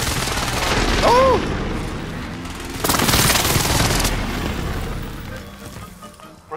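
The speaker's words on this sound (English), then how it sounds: "Precision airstrike missed." Precision airstrike explosions in Call of Duty: Modern Warfare hit with loud booming blasts and rapid gunfire-like bursts. The sustained roar swells again midway and then slowly fades.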